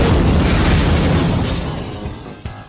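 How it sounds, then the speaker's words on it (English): A big, loud explosion sound effect, a heavy rumbling boom that hits at once and slowly decays over a couple of seconds, with a small extra pop near the end. "In the explosion, she kept her secret safe."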